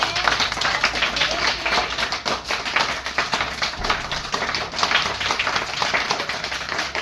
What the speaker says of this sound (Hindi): तो इसलिए खूब जोर से तालियां बजानी है।